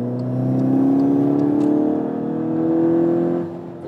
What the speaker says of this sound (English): for a 2-liter engine, a small displacement turbo engine, I think the sound is quite nice